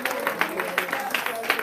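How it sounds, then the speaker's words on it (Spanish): A church congregation claps for Christ during a Spanish-language sermon, a brief burst of fairly soft rhythmic clapping with distinct beats about every few tenths of a second. "dele fuerte ese aplauso a Cristo Jesús"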